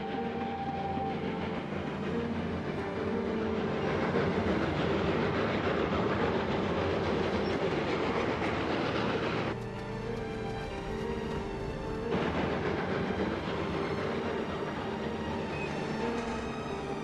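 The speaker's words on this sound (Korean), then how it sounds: "다행히도 기차는 무사히 지나가게 되지만" A train rolls past on the rails, a loud, steady rumble and rattle of wagons lasting throughout with a brief shift in texture midway, and no voices.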